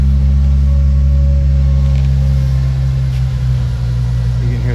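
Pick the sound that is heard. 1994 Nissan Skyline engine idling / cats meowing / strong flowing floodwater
1994 Nissan Skyline engine idling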